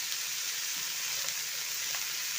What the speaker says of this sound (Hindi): हमारी गोभी भुन गई है, आप देख सकते हैं।